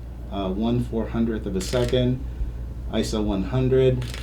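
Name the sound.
camera shutter firing in continuous drive mode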